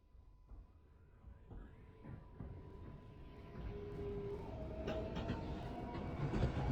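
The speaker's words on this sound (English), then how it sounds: "There is a downtown local train approaching the station." A New York subway downtown local train approaches the station, a low rumble building steadily with rising rattles and screeching metallic squeals growing louder toward the end, with no talk.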